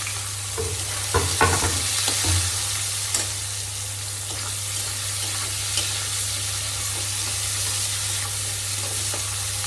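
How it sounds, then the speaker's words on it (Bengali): Chopped onion and garlic fry in hot oil in a wok alongside dried red chillies, a steady dense sizzle throughout with a few spatula stirs near the start and a low hum underneath. "আর এই যে কেটে রাখা পেঁয়াজ আর রসুনটা এর মধ্যে দিয়ে দিচ্ছি।"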